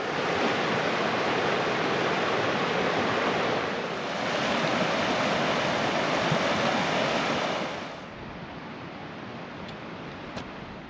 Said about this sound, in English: And then over there, there's little stream channels